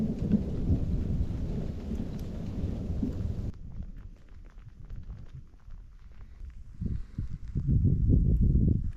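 A hailstorm of soft, styrofoam-like hail with rain and thunder: a steady, dense rumble of pelting precipitation, then a quieter patch of scattered drops before heavy thunder rumbles and pounding hail return loudly.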